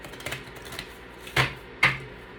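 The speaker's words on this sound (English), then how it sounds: "So let me shuffle this a couple times" An oracle card deck being shuffled by hand, heard as a few soft, separate slaps and clicks of the cards, close and fairly quiet, with two sharper hits near the end.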